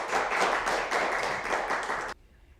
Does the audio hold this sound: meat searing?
no